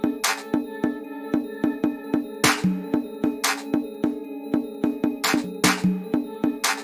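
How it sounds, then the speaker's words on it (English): A UK drill beat made in FL Studio loops with sharp clap hits, doubled so one copy has delay, over a repeating tuned pattern. The snappy bursts fall in a steady groove and sit close and loud. "Next we're taking a clap from the military kit."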